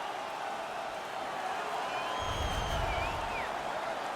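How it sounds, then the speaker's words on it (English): Home crowd roars after a fight ends in an NHL 19 hockey arena, a steady wash of cheering and noise that swells with a low rumble partway through, with no voices up close. "The home crowd is ecstatic. They're making all kinds of noise."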